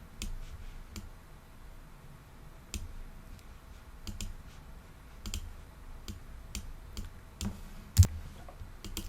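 A computer mouse clicking sporadically at a desk, sharp isolated clicks spaced irregularly over a quiet room background, one louder click near the end.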